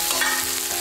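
Green chili peppers pan-frying over medium heat while a spatula presses them down, a loud continuous sizzle and crackle heard up close without any voices.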